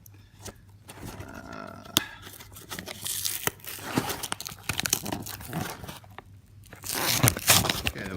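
Cardboard and plastic packaging of a Xipoo reconnaissance vehicle toy box being torn and crinkled open one-handed, with bursts of ripping, crackling and crumpling that grow louder toward the end.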